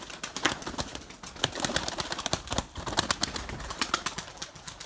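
Young Erzurum white pigeons coo in a coop, with repeated soft throaty calls and occasional wing flutters close by.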